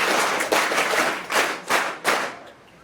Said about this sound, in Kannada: ಎಲ್ಲರೂ ಜೋರು ಚಪ್ಪಾಳೆ ಹೊಡಿಬೇಕು